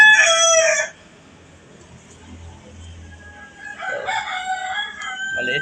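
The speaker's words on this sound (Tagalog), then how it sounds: "hindi naman alam kung anong klaseng manok to guys" Backyard chicken giving a loud close crow at the start, then a quiet pause before a run of nearby clucks and squawks with another brief call at the end.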